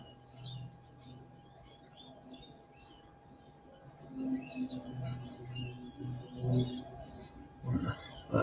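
Resident magpies call outdoors with scattered chirps and warbling notes, fairly faint and distant, accompanied by low background noise and occasional soft thumps.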